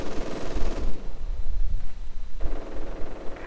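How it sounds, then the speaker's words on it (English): An MG-42 machine gun fires in Company of Heroes 2 in loud, dense automatic bursts, mixed with other gunfire and battle rumble during a 1v1 match. "MG-42 still holding out in this very, very small wooden shack"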